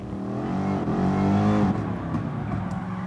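Race car engine at full throttle in Gran Turismo Sport, a loud steady high-revving drone that climbs slightly mid-run, with no voices.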